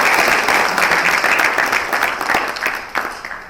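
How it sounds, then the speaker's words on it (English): A large audience at the opening plenary of an international conference in Dubai breaks into a dense, loud wash of applause that rolls on steadily and eases slightly toward the end. "So big round of applause to all of you for coming here."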